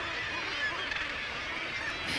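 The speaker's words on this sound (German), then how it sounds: "Basstölpel." Colony of northern gannets, goose-sized seabirds at a breeding site on the German coast, calling in a dense, continuous harsh chorus that fills the whole stretch without pause.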